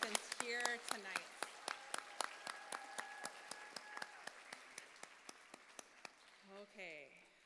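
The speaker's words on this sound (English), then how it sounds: "So big round of applause to all of our contestants here tonight" At the Miss Indigenous Canada 2025 pageant, an audience claps for the contestants in a sparse, rhythmic run of single claps that gradually fades, while voices and a brief tone are heard over it.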